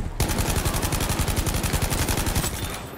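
Rapid automatic gunfire rattles loudly and continuously in Battlefield 5 gameplay, a dense stream of shots running for about three seconds before tapering slightly at the end.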